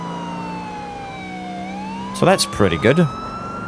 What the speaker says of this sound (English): when you have the sirens and the lights on